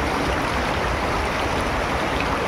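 A cold snowmelt river rushes through the Uttarakhand mountains, a loud, steady broadband wash of flowing water, close and unbroken with no voices.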